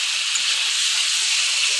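Papaya, potato and fish curry fries in a pan, giving a steady bright hiss of sizzling oil with no break, close and fairly loud.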